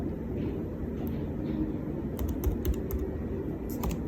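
Quick bursts of keystrokes on a computer keyboard, light clicks in short runs over a steady low room hum, close and fairly soft.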